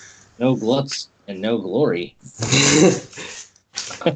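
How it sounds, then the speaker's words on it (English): A pet dog barks and growls in a home during a wrestling podcast, short gruff bursts mixed in with loud close speech from people talking. "That's my dog. She's barking away, bless her."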